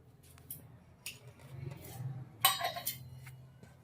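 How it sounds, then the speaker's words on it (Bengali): A metal wok (kadai) set onto a kitchen stove: a few faint clinks and scrapes of metal, with one sharper clank near the end, in a quiet room. "এবার কড়া বসিয়ে দিচ্ছি একটা।"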